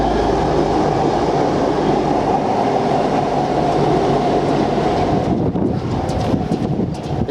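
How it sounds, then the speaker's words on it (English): A V/Line regional train rumbles loudly and steadily through a Melbourne station, close by, with a sustained broadband roar that starts to fade and break up near the end. "There's a V-line coming through right now though."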